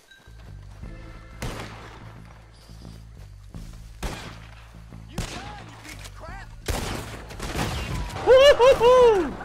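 Gunfire in a Western-style video game moonshiner ambush, with several loud individual gunshots and short bursts spread across the clip, building to a dense volley near the end.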